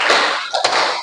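Children clap together in a classroom rhythm exercise, a few sharp group claps close by, slightly uneven and not fully in sync.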